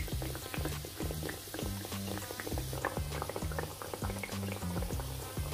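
Sweet tikiyan sizzling in hot oil, a continuous crackling bubble of frying batter with steady popping spatters, close and fairly loud throughout, with no voices.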